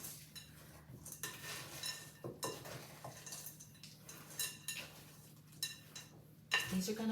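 Cookie dough with chocolate chips and chopped walnuts being folded together in a pan, giving soft scraping and clinking of a utensil against the dish in irregular strokes, with a sharper clatter near the end.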